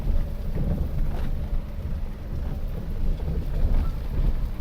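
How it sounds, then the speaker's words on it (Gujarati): Steady rain with stormy wind at dawn on a rooftop, a dense continuous low roar with patter, no voices. "એક બાજુ વરસાદ ને એક બાજુ વાવાઝોડું."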